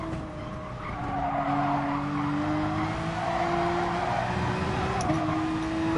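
A Porsche 911 RSR race car in GT Sport braking hard into a corner, tires squealing in a steady sustained screech over the engine, loud and close throughout.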